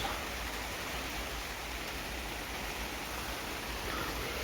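Steady rain falls on an allotment in British weather, a constant soft hiss with no breaks, fairly faint and heard alone without any talking.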